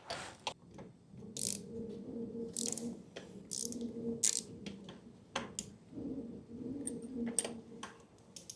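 Ratchet wrench working spark plugs loose on a Honda Shadow motorcycle, giving repeated close clicking bursts and short metallic scrapes in an uneven rhythm, with a low hum underneath and no talk.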